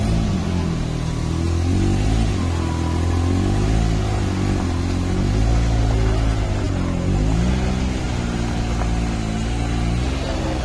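A Can-Am X3 Turbo RR UTV, not yet warmed up, idles and rolls slowly back and forth in a driveway on new tires, its engine a loud, steady low rumble with slight wavering pitch changes and no voices.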